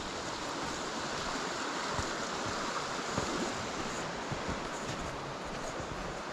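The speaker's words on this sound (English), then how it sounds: "the water's deep and fast flowing" The deep, fast-flowing water of the River Wansbeck rushes in a constant, dense broadband roar, steady and fairly loud with no speech.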